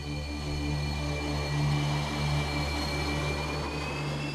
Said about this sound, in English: Sukhoi officials look on as the big Su-37 takes to the skies